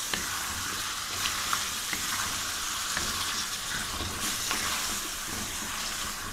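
Potato pieces frying in a pan with cooking tomatoes, a dense, steady sizzle broken by the scrape and tap of a spoon stirring through the vegetables, close and fairly loud.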